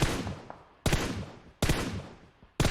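Gunfire in the video game PUBG Mobile: three loud, sharp shots spaced evenly apart, each followed by a long, fading echoing tail, with no talking.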